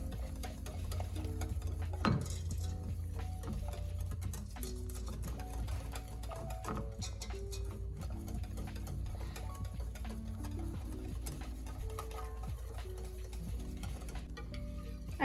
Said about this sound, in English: So we're just going to keep on mixing that until it starts to come to a rolling boil